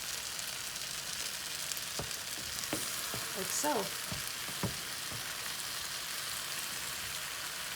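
Tofu sizzles in a hot pan for a spicy eggplant dish, a steady, soft crackling fry with a few clinks and stirring knocks, as a voice speaks briefly.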